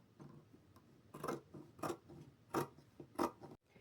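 Scissors snip through shower curtain material for a bib jumper, giving four or five distinct cutting bursts at a steady pace, close and moderately loud, with soft handling rustle between cuts.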